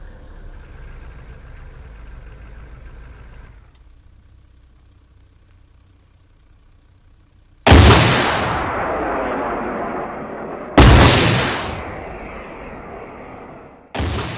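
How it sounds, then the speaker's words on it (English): MLRS rocket artillery fires in Arma 3, three loud launch blasts spaced a few seconds apart, each a sharp crack followed by a long rumbling tail, after a quieter stretch of low engine hum. "An MLRS can also launch missiles."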